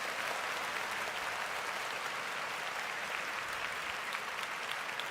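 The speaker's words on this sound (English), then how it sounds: "Can we give Trent a round of applause?" Sustained applause from a crowd at a football training camp, a steady dense wash of clapping for a player that holds at an even level throughout with no talk over it.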